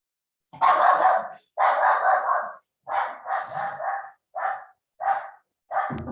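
A dog barks repeatedly nearby, about seven sharp barks in an uneven rhythm with brief gaps between them, loud and clear with no speech over them.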